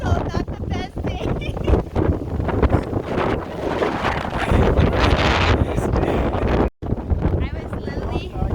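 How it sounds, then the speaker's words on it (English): Strong gusts roar and buffet the microphone on a windy mountain top in Cape Breton, loud and continuous with a brief dropout. "I'm at the top, and it's so windy."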